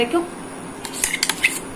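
A utensil scrapes and clinks against a pan while beetroot masala is stirred. A short run of light metallic taps and scrapes comes up close after a quiet start, with no talking.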